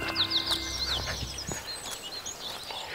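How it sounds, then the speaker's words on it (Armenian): Small birds chirp and sing with quick, thin calls in a hotel garden in Jinka, Ethiopia, fairly close but soft, over a quiet outdoor background. "բնություն, թռչունների ձայներ և հրաշալի միջավայր"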